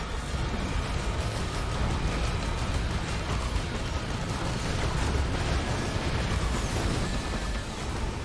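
Explosions in the video game Risk of Rain 2 form a dense, continuous roar of overlapping blasts and rumbling noise that stays steady and loud throughout, with no talk.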